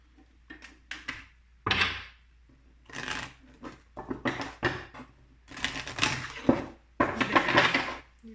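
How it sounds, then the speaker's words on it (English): Small items clatter and shuffle inside a drawer in bursts of rummaging and tidying, with playing cards among the items, close and moderately loud, with short pauses between handlings. "I'm just gonna tidy up the drawer because I got all this stuff."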